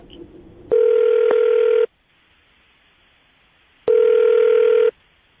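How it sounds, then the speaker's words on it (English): Telephone ringback on a call placed by phone: two long, loud, steady electronic rings separated by a silent gap, with no talk. "I'm about to dial the phone number and get him on the phone"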